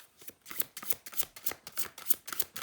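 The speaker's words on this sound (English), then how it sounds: "Gotta do another shuffle." Oracle cards are shuffled by hand, a close, quiet run of rapid riffling flutters in quick bursts, with no speech.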